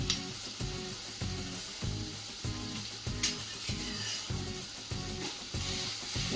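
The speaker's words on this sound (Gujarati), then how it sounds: "બધાને બરાબર સાતળી દઈશું ચડવી દઈશું" Steady sizzling of ginger, chili and garlic paste frying in a pan over medium heat, with a regular rhythmic scraping as it is stirred, close and continuous.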